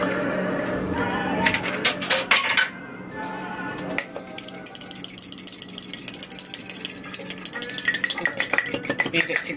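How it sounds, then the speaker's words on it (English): Egg and water being beaten for an egg wash for a Christmas meat pie: fast, rhythmic clinking of a utensil against a bowl, close and steady, with a brief pause partway through. "Beat it together a little bit."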